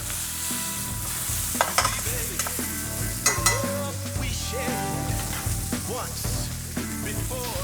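Steak sears in a hot pan for tagliata, a steady loud sizzle and crackle with occasional spits, stirring scrapes and clatters popping out above the continuous frying hiss.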